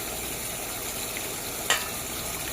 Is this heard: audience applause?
no